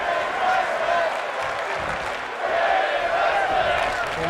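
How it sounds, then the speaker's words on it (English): A steady, dense crowd roar fills a wrestling arena in a modded wrestling video game, swelling in waves with cheers and scattered clapping throughout. "This crowd is loving what they are seeing here."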